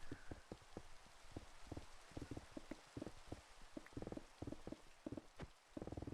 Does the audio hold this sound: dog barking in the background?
no